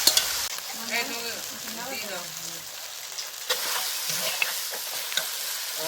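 Chicken pieces being sautéed with spices in a pan as jackfruit curry is prepared, a steady sizzle broken by stirring scrapes, with brief talk early on.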